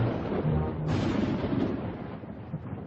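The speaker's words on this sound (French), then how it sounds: "L'orage va bientôt éclater." Cartoon thunder rumbles as a storm breaks, a deep rolling boom with a sharper crack partway through, then fading, loud and alone without speech.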